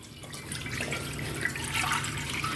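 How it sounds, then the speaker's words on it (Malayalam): Four litres of milk pour steadily into a bell-metal urali on the stove while payasam is being made, a continuous, close, splashing liquid rush with no talking. "ഞാനിപ്പോൾ ഒരു 4 ലിറ്റർ പാലാണ് ഒഴിച്ചു കൊടുത്തിരിക്കുന്നത്."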